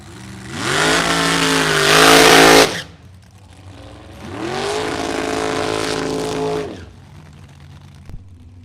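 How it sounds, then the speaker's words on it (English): A rear-engine dragster launches down a drag strip at a bracket race, with a loud close roar that rises in pitch and cuts off. Then another long, slightly quieter engine run follows, fading with a brief late click. "Kevin Robertson, rear engine dragster out of Port Washington, Wisconsin, dialed in at 431."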